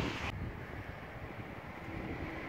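Steady wind roars and buffets the microphone on a cold day at an outdoor Christmas tree lot, a loud, rough rumble that continues without a break.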